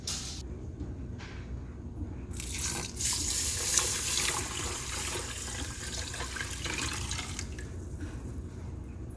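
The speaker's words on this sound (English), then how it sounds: "So let's go ahead and get our water and put it in here." Water pours from a tap into a pot for cooking long grain rice, a steady splashing rush that swells midway and stays close and continuous, with no talk over it.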